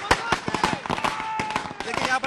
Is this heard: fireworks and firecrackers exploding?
yes